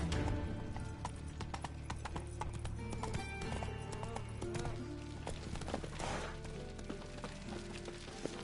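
Roach, the horse in The Witcher video game, gallops with a steady, close clip-clop of hooves over a dense game soundscape, with an occasional whinny.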